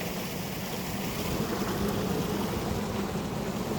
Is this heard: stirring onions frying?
no